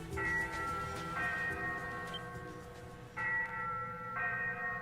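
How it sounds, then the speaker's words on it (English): A ship's bell rings aboard a ghost ship in the video game Ys 8: Lacrimosa of Dana. Four resonant strikes come in two spaced pairs, each tone ringing out and lingering over a low ambient hum. "The ship's bell."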